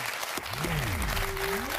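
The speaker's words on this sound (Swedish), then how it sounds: "Och håll igång den applåden!" Studio audience applauding on a Swedish TV show, a steady dense wash of clapping filling the moment, with a sweeping musical tone gliding underneath.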